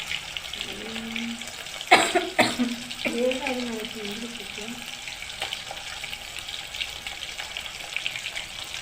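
Chicken 65 deep frying in hot oil in a pan, a continuous bubbling sizzle with a sharp crackling burst partway through, while a voice speaks briefly over it.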